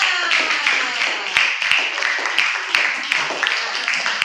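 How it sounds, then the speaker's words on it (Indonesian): Classroom clapping, loud and close, with a quick uneven patter of hands from a group of students, individual sharp claps standing out over a voice talking underneath. "Beri tepuk tangan untuk kita semua"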